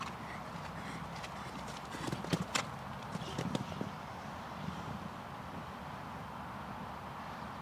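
Horse hooves clip-clop faintly across a show jumping arena at an FEI five-star 1.40m event, a loose run of soft thuds rising briefly in the middle against a low, steady ambient hum.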